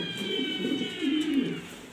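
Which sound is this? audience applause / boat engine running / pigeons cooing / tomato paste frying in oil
pigeons cooing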